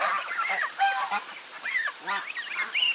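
Several geese honk repeatedly at close range, loud nasal calls overlapping one another with no other sounds in between.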